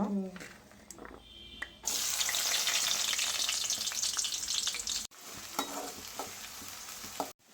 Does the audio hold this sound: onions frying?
yes